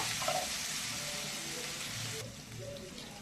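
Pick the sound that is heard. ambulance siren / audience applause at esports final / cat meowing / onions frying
onions frying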